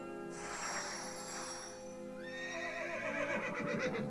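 A horse neighs and whinnies, then hooves clip-clop in a galloping rhythm, an effect in a children's story about a flying rocking horse; close and clear with no talking.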